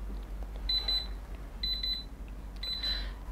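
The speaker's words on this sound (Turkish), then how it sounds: "Bir dakika içerisinde alarm çalacak. Bakalım sesi nasılmış." A wireless charger clock night light sounds its alarm in three short bursts of rapid high electronic beeping, separated by pauses, over a low steady hum in a quiet room.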